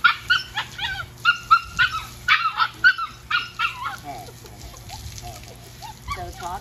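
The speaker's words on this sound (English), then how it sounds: "This is totally normal behavior for a puppy to fuss." A Samoyed puppy being washed yelps and whimpers in a rapid series of high, squeaky cries, then settles into softer intermittent whines, close by.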